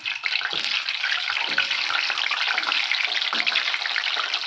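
Raw gooseberries fry in hot oil with a steady, loud hiss and crackle close by, continuous and without talk.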